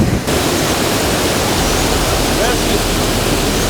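Water rushes loudly and continuously through a narrowing pipe into a mill in the Anina Mountains, a dense, roaring hiss heard up close.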